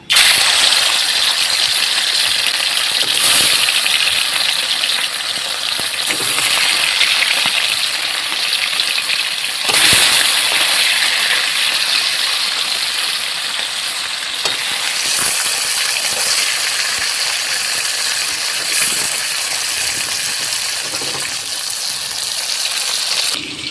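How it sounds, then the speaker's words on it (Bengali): Hilsa fish frying in mustard oil, a steady loud sizzle and crackle running throughout, with occasional louder spits and bursts as pieces are turned in the pan. "আমি 2 ভাগে মাছগুলোকে ভেজে নেব।"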